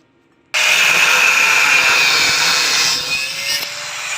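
An angle grinder cuts through a leftover piece of metal on a gate under repair, starting abruptly after a brief silence and holding a loud, steady high-pitched screech that eases slightly near the end.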